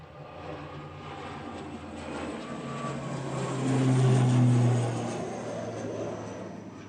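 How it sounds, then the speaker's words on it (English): An eight-year-old Aer Lingus Regional ATR 72-600 turboprop departs Manchester Airport, a steady engine drone with low tonal hum that swells to a peak midway and then eases, heard alone at moderate distance. "Aer Lingus Regional going next over to Belfast. GCMJJ is an 8-year-old ATR 72-600."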